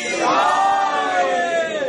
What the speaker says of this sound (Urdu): سارے مل کے بولو، ارے زور سے بولو، نعرے حیدری